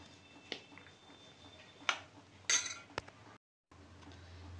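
A spoon mixing gram flour and spices in a bowl gives a few sparse, sharp clinks and taps against the bowl, with quiet gaps between them and no talking.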